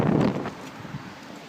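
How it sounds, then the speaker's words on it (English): Gusty wind buffets the microphone outdoors in wind and rain, a strong rushing blast at first that eases into a steadier low roar. "You can see how windy and rainy it is out there."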